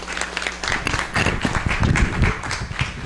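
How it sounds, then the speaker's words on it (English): An audience claps steadily, a dense patter of applause filling the room for a few seconds. "Let's give a round of applause for them."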